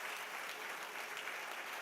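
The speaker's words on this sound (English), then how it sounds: "Let's give a big round of applause to our young superstar today" A school auditorium audience applauds a young performer in a Grade 4 play, continuous even clapping heard at a moderate distance and fairly soft level.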